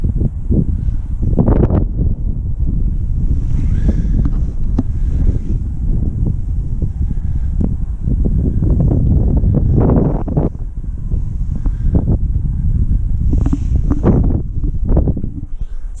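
Strong, gusty wind buffets the microphone on the exposed hilltop at Shaftoe Crags in Northumberland, a loud, continuous low roar rising and falling in irregular bursts.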